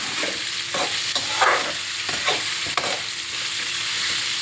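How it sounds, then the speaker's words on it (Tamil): Raw mango pieces stirred with a ladle in a hot pan for a Tamil sweet mango pachadi, giving several close scraping strokes over a steady, soft sizzle. "இந்த மாங்காயை போட்டு நல்லா 2 கரண்டி பரட்டி விட்டுக்கோங்க."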